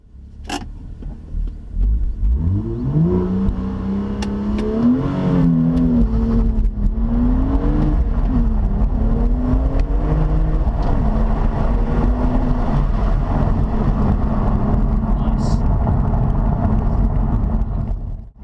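A 2017 BMW M2, rated at 365 horsepower, accelerates hard while driving, its engine note rising and climbing through the revs after a brief start, then holding a loud, sustained drone until it cuts off at the end.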